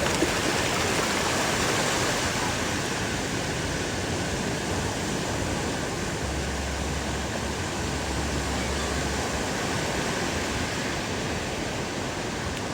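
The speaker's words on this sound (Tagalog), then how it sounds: "Sobrang lakas talaga ng alon." Strong surf at a clean beach washes in as a steady, loud, broadband roar that holds level throughout, with no voices and no distinct breaks between waves.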